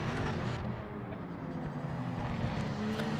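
A race car engine from the Project Motor Racing sim, featuring Japanese prototypes, drones steadily at a sustained high pitch, close and continuous throughout with no talk over it.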